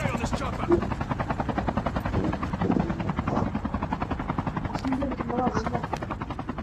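A steady helicopter rotor thrum with rhythmic chopping in Call of Duty: Mobile, loud and continuous, with voices talking in Turkish over it throughout.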